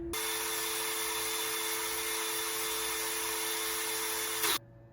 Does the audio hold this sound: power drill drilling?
yes